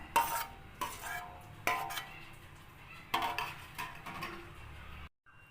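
A spoon mixes grated beetroot, chopped green chillies and chopped onion in a bowl, giving soft, repeated scraping and clinking strokes at a steady rhythm, fairly quiet and close, ending in a brief silence.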